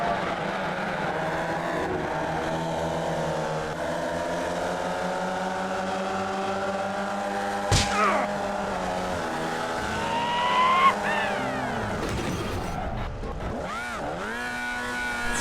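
Race cars roaring through an iRacing sim race, steady engine drone with gear changes and rising and falling revs, a sharp transient near the middle and passing cars late, no talk.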